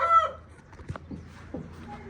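Village roosters crow and cluck nearby, with one crow at the start and scattered clucks and short calls after it over quiet background noise.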